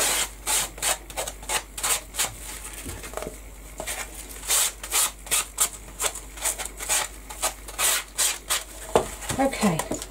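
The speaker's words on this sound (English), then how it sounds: "Roughen off the edges." Craft project edges are roughened by hand sanding, heard as close, rhythmic rasping strokes in quick repeated bursts with brief pauses between them.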